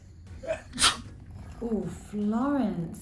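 A single sharp sneeze, close and loud, followed by voices talking.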